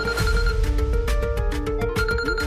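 A telephone rings in a Malayalam TV drama scene, a repeating melodic electronic ringtone played steadily and fairly loud with no talking over it.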